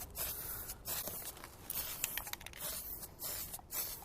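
A garden container gets an even coat of spray paint, with bursts of hissing spray repeating close up, broken by short pauses.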